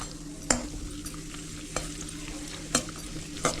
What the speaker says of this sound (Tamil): இதில் ஒரு இருபது முந்திரி உடச்சி வச்சிருக்கிறேன் இதை வறுத்து எடுத்துக்கலாம்